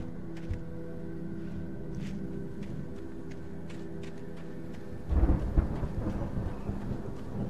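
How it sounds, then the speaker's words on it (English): A thunderstorm in the Alan Wake video game, with steady rain and a low rumbling bed, then a loud close thunder crack and rolling boom breaking in near the end, with no talking. "The storm raged on as the Anderson brothers walked unsteadily away from the clinic."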